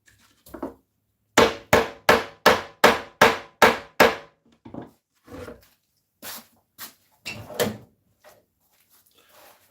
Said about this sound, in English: I feel like I'm just tapping away without a real hammer.